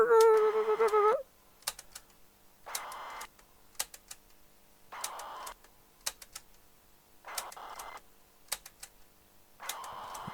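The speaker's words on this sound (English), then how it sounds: "You can hear it, me clicking away." Computer keys click in short irregular bursts while a cassette-tape game loads, separated by quiet gaps, with a brief warbling tone at the start.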